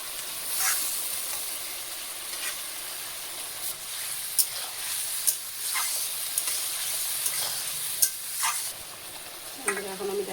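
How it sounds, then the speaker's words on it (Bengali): Fried potatoes and egg are sautéed with spices and a little water in a pan. Spoon strokes scrape and tap at intervals over a constant close sizzling hiss, with no talking. "ভাজা রাখা আলুটা আর ডিমটা দিয়ে দেবো, একসাথে কষাই নেবো"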